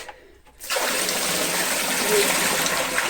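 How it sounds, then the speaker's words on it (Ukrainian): Meat in canning jars boils hard inside a homemade cooking kettle, a loud, steady bubbling and hissing rush that starts abruptly after a quiet half second and continues without a break. "м'ясо в банках кипить досить сильно"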